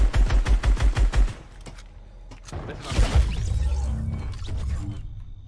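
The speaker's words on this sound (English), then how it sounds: "Why are SMGs even in the game, guys?" Rapid bursts of submachine gun fire in a video game, a quick run of sharp shots lasting about a second, followed by quieter game noise and a brief muffled clatter.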